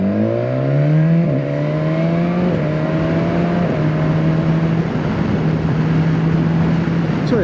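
BMW S 1000 XR motorcycle engine climbs through rising revs, each pull followed by a brief dip as the pitch steps up, then settles into a sustained high drone under wind rush.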